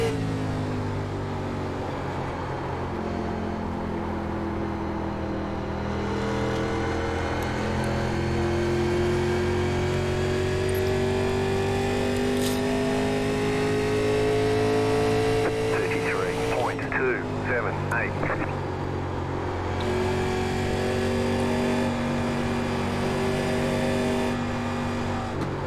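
A 1987 NASCAR Legends race car engine at Darlington Raceway in iRacing drones loudly and steadily, pitch rising gradually through a lap with a brief dip, as someone talks over it.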